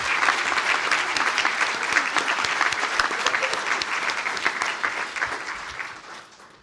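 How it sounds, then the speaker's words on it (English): A conferring ceremony audience gives a round of applause for building and civil engineering graduates, with dense steady clapping that gradually thins and fades out at the end. "I would ask the graduates from the Department of Building and Civil Engineering to stand for a well-deserved round of applause."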